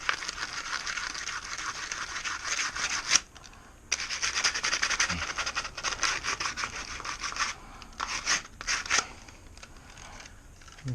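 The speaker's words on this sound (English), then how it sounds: "I think this is a bit of 120 grit paper." Hand sanding a kayak keel guard with 120-grit sandpaper, raspy back-and-forth scrubbing strokes close up, stopping briefly now and then before resuming.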